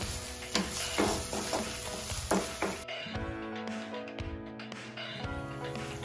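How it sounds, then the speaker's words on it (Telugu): Ginger garlic paste frying in a pan for prawn curry gives a steady, close sizzle, with stirring scrapes and clinks throughout and a brief shift in texture partway through. "అల్లం పచ్చివాసన పోయే వరకు వేయించుకోవాలి"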